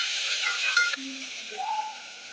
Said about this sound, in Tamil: இஞ்சி பூண்டு பேஸ்ட் போடுறோம் இதையும் இப்போ நல்லா கலரி விட்டுக்கலாம்